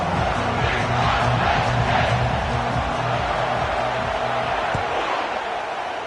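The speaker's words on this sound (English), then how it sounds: "this home crowd is fired up and ready to make a difference today" Home crowd at a Penn State Nittany Lions college football game roars loudly and continuously, a dense wall of cheering and shouting with rhythmic chanting pulses underneath.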